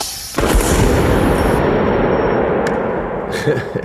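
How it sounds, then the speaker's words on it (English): A Lorentz plasma cannon fires from a 150,000 volt capacitor bank, a sudden loud blast that settles into a dense, sustained crackling roar lasting a few seconds, with a sharp high pop near the end. "the bank is charged and ready to fire"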